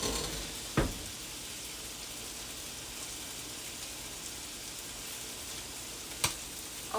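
Filipino adobo sizzles and fries steadily in a pan, a dense, continuous crackle with two sharp knocks as it is stirred, near and without talk.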